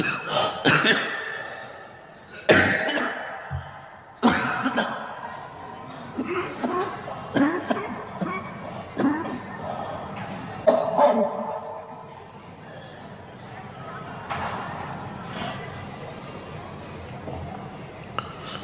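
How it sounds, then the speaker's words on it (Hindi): Several sharp, harsh coughs burst out near the start, then trail off into scattered throat noises and low murmuring over a quiet room. "आपको ही खांसी परेशान कर रही है।"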